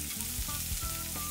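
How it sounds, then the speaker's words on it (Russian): Chopped onion sizzles in a preheated frying pan, a close, steady crackling fry with a few faint stirring scrapes and no talking. "Теперь на разогретую сковороду выкладываем жариться репчатый лук."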